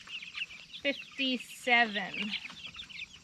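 Meat chickens cluck in a few short bursts close by, with a person talking over and between the calls.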